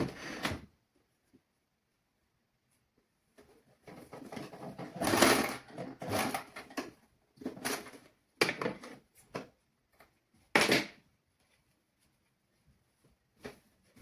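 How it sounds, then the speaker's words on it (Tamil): A sewing machine stitches a girl's dress in intermittent bursts of whirring, with several short runs separated by quiet pauses, faint and close. "இந்த ஜாயிண்ட் பகுதியை சரியாக எடுத்துக்கொண்டு தான் நாங்கள் தைக்க வேணும்."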